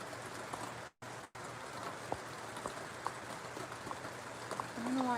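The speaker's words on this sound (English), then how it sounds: "now it's raining all day today" Steady rain hisses outside a greenhouse, with scattered drops tapping nearby and a couple of brief dropouts; no one speaks.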